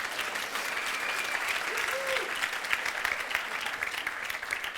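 An audience applauds after a Bible reading, a continuous even patter of many hands clapping at moderate distance, steady from start to finish with a faint voice briefly audible underneath.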